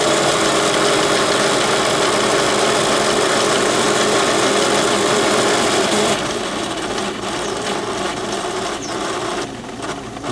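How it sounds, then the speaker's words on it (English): A locomotive on the Crow's Nest Railroad opened to wide-open throttle during a tractive effort test, a loud, dense mechanical roar with grinding wheel-spin texture that drops slightly in intensity midway, close and continuous. "I'm just going to wide open the throttle here."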